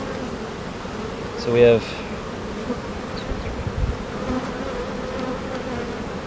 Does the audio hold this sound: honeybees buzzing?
yes